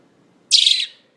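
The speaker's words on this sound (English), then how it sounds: "Look at my wife, scared of a baby bird." A baby bird gives a single short, bright chirp, close and loud against a quiet background.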